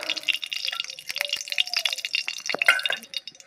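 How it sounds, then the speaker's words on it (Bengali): A little oil poured into a pan while making village-style jujube pickle: close, bright trickling and dripping with quick splashy ticks over a few seconds, no voices. "সামান্য একটু তেল দিয়ে দিচ্ছি।"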